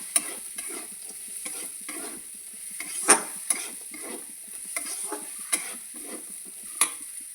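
Grated green peas are sautéed in a pan in a home kitchen, giving a soft steady sizzle broken by sharp scrapes and clicks of a spatula stirring against the metal, with no one talking.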